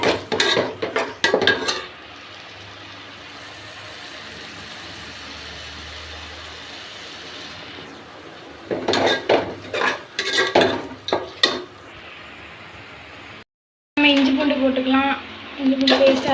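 Mint and coriander leaves are stirred in a cooking pot for chicken kuzhambu, with bursts of clattering metal scraping at the start and middle over a steady background hum, broken by a brief dropout.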